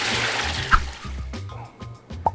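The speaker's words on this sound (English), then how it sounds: "Putting them in cold water, we're going to shock them so they stop cooking on the outside." Boiled Brussels sprouts go into cold water to shock them, with splashes and sloshing bursts in a quiet kitchen, a couple of sharper plops standing out.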